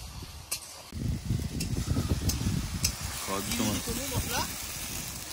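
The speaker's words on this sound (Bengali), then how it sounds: "পেঁয়াজটা ভেজে নিলাম, আদা রসুন বাটাও দিয়ে দিয়েছি" Onions sizzling and frying in a pan with ginger-garlic paste for a village-style rohu fish and green banana curry, a steady crackling sizzle with stirring, while a voice talks over it.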